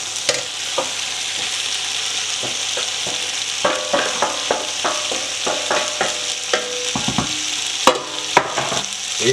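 Banana blossom and sausage curry sizzles steadily in a pan over high heat while a utensil stirs it, scraping and knocking in irregular clusters close by.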